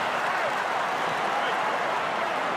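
Huge stadium crowd of almost 71,000 at a Collingwood AFL match in the final minute of a close game, a steady loud roar of cheering and noise filling the ground with no clear breaks.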